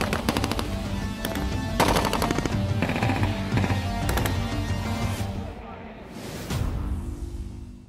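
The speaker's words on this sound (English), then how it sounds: "making quick work of targets with its mounted GPMG" GPMG machine gun mounted on a Bronco all-terrain vehicle at a live firing competition, loud rapid bursts of automatic fire repeating in clusters, with a voice talking over the shooting.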